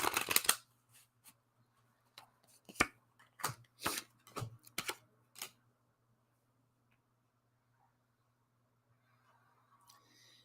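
Playing cards shuffled and laid down during a tarot-style reading: a burst of riffling, then a series of sharp, close card slaps and flicks over about five seconds, followed by near silence.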